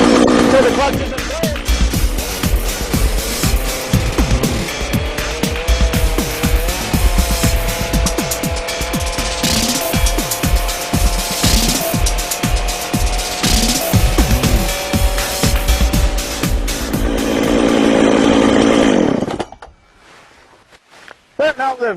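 Chainsaw-powered Lewis winch engine running loud and close with a buzzing two-stroke roar and rapid revving pulses for most of the stretch, then cutting off abruptly near the end, with a voice talking over it.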